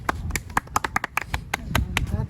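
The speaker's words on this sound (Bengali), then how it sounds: "হ্যাঁ হাততালি।" Small group clapping at a casual outdoor vlog gathering in Khulna, Katabon, a dozen or so irregular sharp claps over about two seconds, close and moderately loud, mixed with voices talking.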